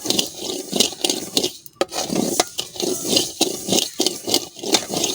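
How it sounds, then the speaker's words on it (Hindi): A spoon stirs black mustard seeds dry-roasting in a pan, loud rhythmic scraping strokes with a light crackling sizzle, repeated steadily and close. "चम्मच को आपने हिलाते रहना है, चम्मच को रोकना नहीं है।"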